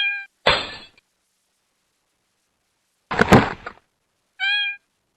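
A cat frightened of water meows in short, tonal cries at the start and end, with loud thumps and clattering between them and silent gaps in between.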